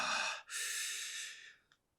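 A long audible exhale of breath is let out slowly, close and fairly soft, with a short pause after an initial push and a tiny trailing puff at the end.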